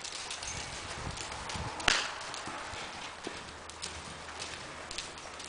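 A yearling horse canters, its hoofbeats coming as soft, rhythmic clip-clop thuds at moderate distance, with one sharper knock partway through, over a quiet outdoor background.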